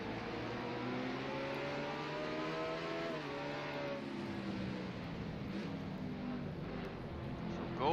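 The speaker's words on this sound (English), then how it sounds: "Shifting the 3rd, braking, downshift." Race car engine in a racing game at Infineon, a loud sustained whine with clear harmonic pitch sweeps as the driver shifts to third, brakes and downshifts, the revs dropping and climbing under steady engine drone.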